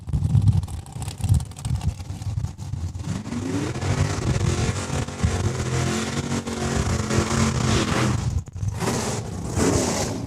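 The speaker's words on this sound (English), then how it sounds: "And that's Travis McBain out of the burnout box, warming up those rear tires of that Dragster." A drag racing dragster pulls out of the burnout box at a raceway, its engine roaring and warbling loudly with rising pitch as the rear tires are heated, heard at moderate distance amid track ambience.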